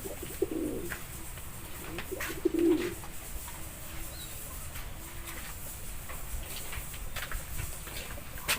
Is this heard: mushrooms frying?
no